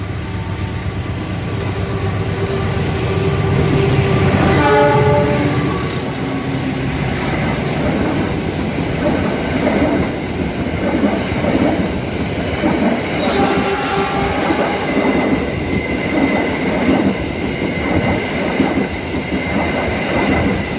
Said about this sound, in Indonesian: Kereta api Kahuripan diberangkatkan kembali dari stasiun Ciamis